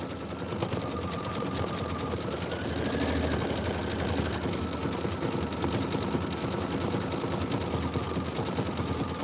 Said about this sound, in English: And I'm going to do the decorative stitching.